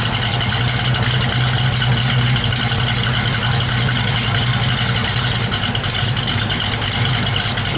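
A 1966 Chevrolet Chevelle SS with a lumpy cam idles steadily and loudly nearby, a continuous throbbing rumble with no talk over it.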